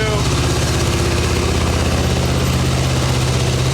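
A 1989 Harley-Davidson Ultra Classic bagger engine with carburetor and intake trouble runs on full choke at around 2,000 RPM, a loud, close, steady throbbing rumble that holds without letup throughout.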